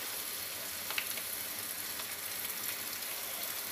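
Instant Penang Nyonya curry sauce hitting a hot pan during a prawn curry, giving a steady close sizzle with a few sharper crackles and stirring clicks, no voices.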